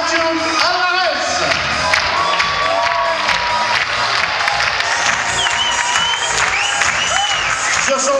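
A circus big-top crowd at a European circus festival in Liège claps and cheers for a star clown, with whoops and children's shouts over the sustained applause, loud and close throughout.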